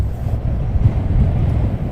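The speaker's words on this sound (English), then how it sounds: "Scott Allen, very windy there." Wind buffets an outdoor microphone at Luton Airport, producing a steady, loud low rumble that stays continuous throughout with no other clear sounds.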